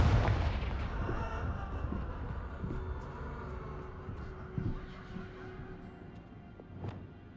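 Confringo spell explosions in the Hogwarts Legacy video game, a dense rumbling blast that fades slowly, with later booms and a sharp crack near the end, heavy low rumble throughout.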